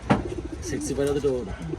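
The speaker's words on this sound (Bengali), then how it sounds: "এখানে যা আছে সব পর্বণ পায়রা" Caged Porbon fancy pigeons give short, low coos close by in a brief moment, mixed with a person talking over them.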